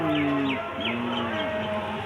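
Several hens cluck and murmur nearby in a steady, overlapping chorus, with one drawn-out call rising above the rest.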